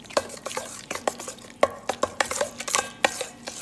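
A spoon stirs banana bread batter with eggs in a bowl, producing repeated close clinks and scrapes against the bowl in an uneven, brisk rhythm, with no talking.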